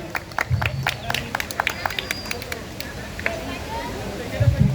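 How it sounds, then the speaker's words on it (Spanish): Audience at an outdoor rock concert in a park clapping for the sound technician, scattered applause and crowd murmur rising and falling, partly under someone speaking over the PA. "Un aplauso para Javi"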